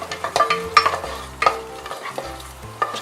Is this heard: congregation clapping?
no